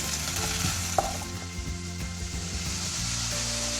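Onions and dried red chillies sauté in a pan for Kerala mango curry (manga mappas), an even sizzle with a sharp pop near the start, beneath soft background music.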